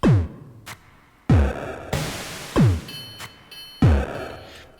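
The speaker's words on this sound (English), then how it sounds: "With the bit crusher, it sounds like this." Heavy metallic anvil strikes with ringing decay, repeated about five times, sounding gritty and lo-fi with harsh bit-crusher distortion and clanking chain textures between hits.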